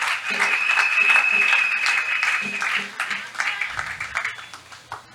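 A church congregation claps and cheers in loud sustained applause that slowly thins out, with voices calling over it.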